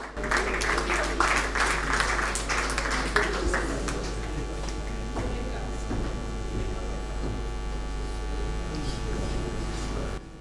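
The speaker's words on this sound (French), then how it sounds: "On applaudit très fort." An audience claps at the Pool Malebo Music Awards ceremony, dense applause strongest in the first few seconds and then thinning, over a constant low electrical hum.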